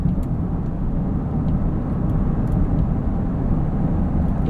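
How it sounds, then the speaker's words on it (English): A 2022 Jeep Grand Cherokee 4xe Overland plug-in hybrid accelerating hard in sport mode, a steady loud low engine and road roar heard from inside the cabin with no talk. "Foot's to the floor, and now we accelerate."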